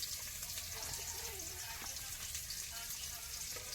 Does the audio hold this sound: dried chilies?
yes